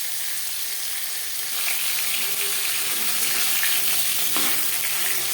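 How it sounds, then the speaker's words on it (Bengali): A katla fish head fries and gets stirred in hot oil in a well-heated pan, giving a continuous close sizzle with soft scraping stir noises. "প্রথমে আমি মাথাটা একটু তেলের সাথে নাড়াচাড়া করে নিলাম"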